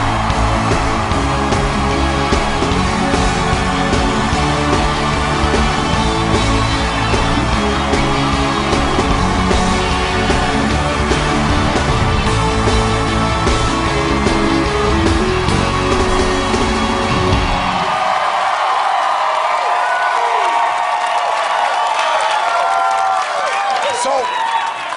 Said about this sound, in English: Everybody give a big cheer, Ashley Tisdale.